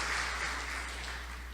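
Congregation applauding at a church service, a steady wash of dense clapping that holds at an even level throughout, with a low constant hum underneath and no clear voices.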